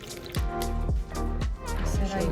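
Bright green fuel mixture poured through a funnel into a truck's fuel door, heard as a close, gurgling glug of liquid in several rhythmic pulses.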